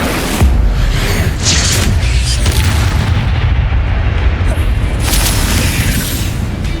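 Incendio fire spell blasts in the video game Hogwarts Legacy: loud, booming fiery explosions in continuous combat, with a few sharp hits standing out.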